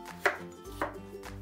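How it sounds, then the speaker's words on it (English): A knife cuts apples into chunks on a cutting board, with three distinct, close chops spaced about half a second apart over a quiet background. "And then slice them into chunks or cubes."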